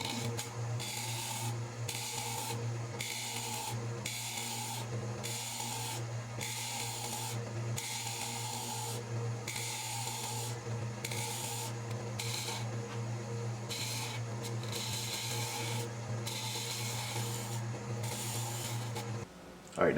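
Tool rounding the edges of an ash bowl on a woodturning lathe, a steady motor hum with repeated rasping, scraping passes in regular pulses, close and continuous for the whole span.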